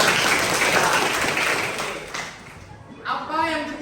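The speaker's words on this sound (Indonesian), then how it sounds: "Tepuk tangan." A class of students clapping together in a school lesson, a dense burst of applause that fades, then a teacher's voice speaks briefly.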